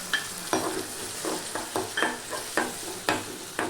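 Onion and garlic fry in a pan with tomato puree added, a steady sizzle broken by repeated scraping stirs of a spoon about every half second, close and without any talking.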